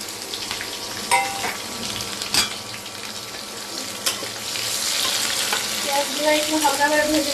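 Chopped onions frying lightly in a pan for beef curry, a continuous sizzle that grows fuller toward the end, with occasional utensil knocks and stirring sounds close by.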